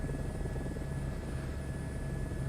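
Helicopter in Microsoft Flight Simulator 2024 on an alpine flight, its rotor and engine a steady, continuous mid-level drone with a low throbbing hum and no talk over it.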